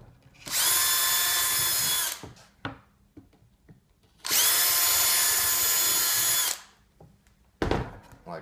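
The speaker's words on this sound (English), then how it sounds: "Drill those holes all the way through the plywood." A power drill fitted with a 3/32 inch bit bores through plywood in two loud, sustained high-pitched whining bursts of about two seconds each, separated by quiet handling noises, with a brief third burst at the end.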